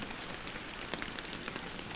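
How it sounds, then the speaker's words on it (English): Rain in the fishing video game Fishing Planet falls steadily and evenly, a dense hiss of drops with a few sharper taps poking out. "you can do this all day long when it's raining like this"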